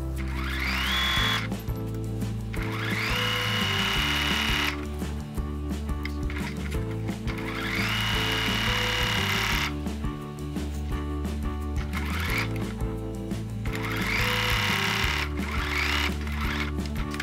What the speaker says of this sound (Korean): 이제 아까 다려준 원단을 봉제를 해서 끈을 만들어 줄게요.